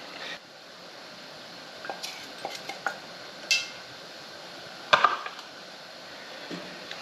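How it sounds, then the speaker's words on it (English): Hot pickled beets are ladled into glass canning jars, making sparse clinks and taps of a ladle against glass and a pot. The sounds are scattered and moderately close over a quiet background hiss. "Then we're going to start adding this into our jars"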